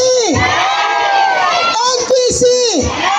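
A crowd at an outdoor political campaign rally shouting and cheering loudly and continuously, with excited whoops rising over a steady roar close to the listener.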